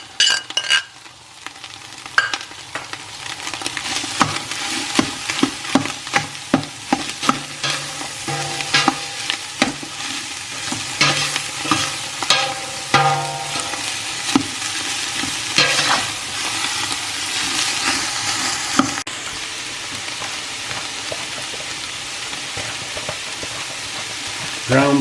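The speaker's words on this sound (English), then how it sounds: "it's time to get this put together and simmering. We got meat. We got onions." Meat and onions stirred in a pot as they fry, a steady sizzle broken by repeated scrapes and clatters of the spoon, close and moderately loud, with no talk.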